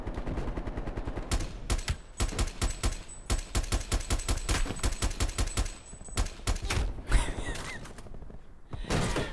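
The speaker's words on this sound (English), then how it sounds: "I was taking on a sniper across the map with my assault rifle" Rapid bursts of assault rifle fire in Call of Duty Black Ops Cold War team deathmatch multiplayer, loud and close, with long automatic strings broken by short pauses and a few scattered single shots near the end.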